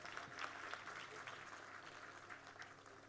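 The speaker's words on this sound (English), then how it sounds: "Let's give a big round of applause, my friends," Faint, distant audience applause at a scientists' round table conference inauguration ceremony: a soft, steady patter of clapping lasting a few seconds with no speech over it.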